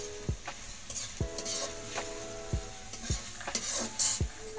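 Spices frying in a wok (kadai) for vegetable rolls, with a soft steady sizzle and five or six sharp scraping knocks of a spatula against the metal at uneven intervals, close by with no talk.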